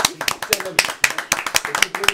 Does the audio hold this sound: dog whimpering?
no